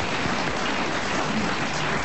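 A studio audience at a French comedy radio show claps in a dense, steady wash of applause that holds at full strength from start to finish, with no speech over it.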